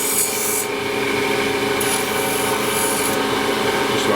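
A steady, continuous rasping rub as a travisher blade's bevel is polished on a powered buffer, loud and close, with a constant whine beneath it and no voices.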